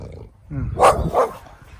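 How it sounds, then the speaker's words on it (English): An angry dog barks outdoors behind a fence, giving two loud, close barks in quick succession over faint background noise. "There's an angry dog."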